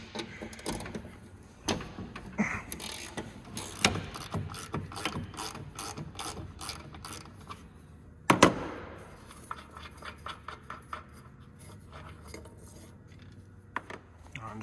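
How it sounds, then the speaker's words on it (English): A hand ratchet clicks in rapid bursts while removing two 13 mm bolts from a lawnmower deck, with rhythmic pawl ticking, a loud metallic clank midway, then slower scattered clicks, fairly faint and close. "grab my ratchet here, go around to the other side. This is a 13 millimeter."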